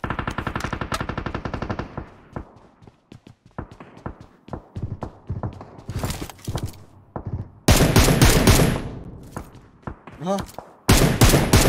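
Rapid machine-gun bursts and scattered single gunshots fill a first-person shooter battle, loud and close, with gaps between volleys and a brief exclamation from a player.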